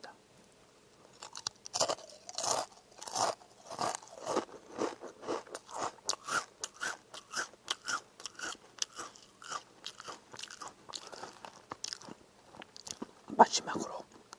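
Someone bites into and chews two pieces of crunchy food at once, giving close, faint, irregular crunches and chewing clicks that come in quick bursts and continue for several seconds without speech.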